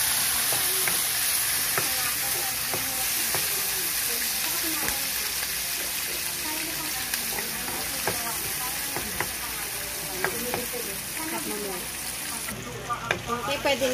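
Garlic and tomatoes frying in a pan, sizzling steadily and loudly throughout, with stirring clicks and scrapes.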